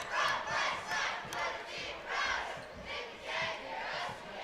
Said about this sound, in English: West Side student section getting a nice little cheer in there.